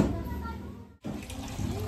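Mineral water pouring into pandesal dough, a steady splashing stream that breaks off briefly and then resumes, close and moderately loud.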